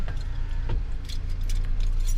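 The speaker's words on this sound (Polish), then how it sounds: "Wyciągamy klucze" Car keys are pulled from a parked car's ignition, giving a close, bright metallic jangle in several quick bursts over a low steady hum.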